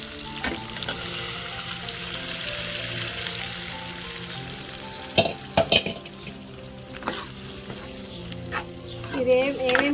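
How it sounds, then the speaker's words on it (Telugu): Mysore dal and moong dal go into hot tempering for chukkakura pappu and sizzle steadily, with sharp scraping stirs and clinks of a utensil against the pan. "మిగతా పప్పు కూడా దీంట్లో యాడ్ చేసుకుందాం"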